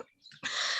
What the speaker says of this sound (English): there's a bird singing in the background where you are